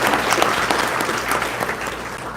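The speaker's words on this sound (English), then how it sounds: "So a round of applause to all of our board members as well." Dense, steady applause from a seated audience at a university ethics symposium, honouring board members, sustained and fairly loud throughout with no break.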